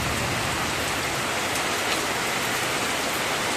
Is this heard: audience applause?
no